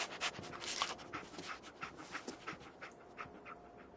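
Dogmeat, the dog companion in the video game Fallout 4, panting in quick rhythmic breaths, close and fairly soft, alone without any talk.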